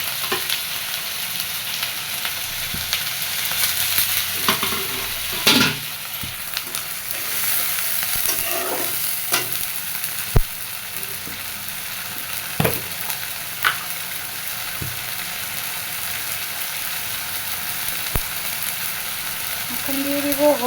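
Egg curry sizzles in a pan after a splash of water, a constant frying hiss broken by intermittent stirring clacks and scrapes of the utensil.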